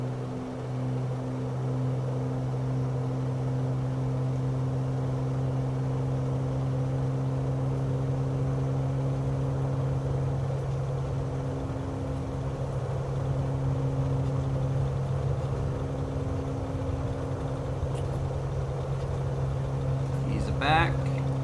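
Steady aircraft engine drone at throttle-up in Microsoft Flight Simulator 2020, a constant loud hum with strong tonal bands holding even throughout, faint clicks near the end.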